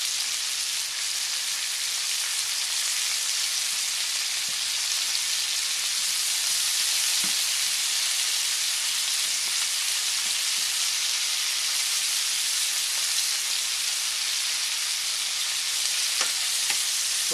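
Pancetta and Brussels sprouts fry in a pan with a steady, close crackling sizzle and occasional light scrapes, continuous with no one speaking.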